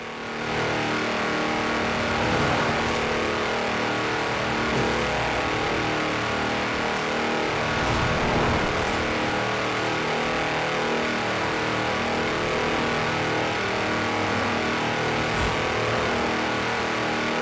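A tractor on mud tyres races at high speed in Forza Horizon 4, its engine droning loud and steady with slight rises in pitch, alone and without talk.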